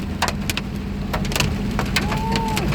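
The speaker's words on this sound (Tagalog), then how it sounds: "Yan po sa unahan po ng sasakyan namin. Babagsakan ng mga yelo." Hail pelting the front of a vehicle during a storm, a dense steady patter with sharper individual clicks scattered throughout, close and continuous.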